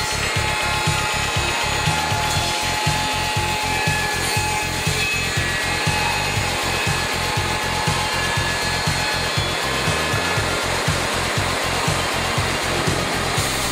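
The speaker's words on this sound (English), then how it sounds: "Even very short parts with tenons are automatically processed out of a longer timber." An industrial woodworking machine automatically cuts tenons from a long timber, producing a loud, continuous mechanical roar with fast rhythmic thumping pulses through most of the run and no voices.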